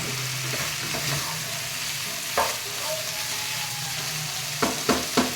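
Chicken fries in a pan over a high flame, a steady close sizzle running throughout with a handful of sharp stirring knocks near the end.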